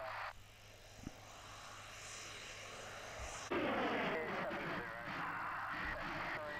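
A light two-seater aircraft flies past with a steady droning engine that swells louder partway through. The sound stays moderately distant and rough, with outdoor noise around it and no clear talk.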